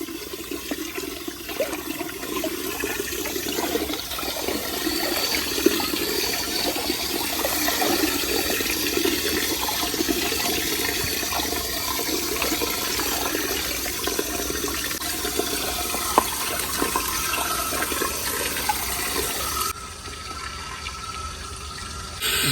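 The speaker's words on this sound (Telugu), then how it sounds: "దీన్ని పైప్ అయితే ఆన్ చేసే కడగాలి" A water hose sprays continuously across the floor of an animal room, a steady rushing wash that runs unbroken and fairly loud before dropping quieter near the end.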